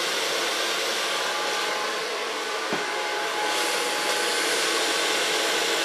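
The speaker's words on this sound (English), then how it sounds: "because then I can feel how warm the dryer is" A hair dryer blows warm air during a short clipper-cut styling session, a steady loud whooshing drone running throughout with one brief click midway.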